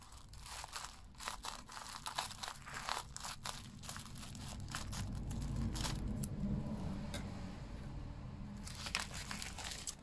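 A parcel is cut open with scissors, giving close, faint crinkling, crunching and tearing of packaging material in irregular bursts, without any speech.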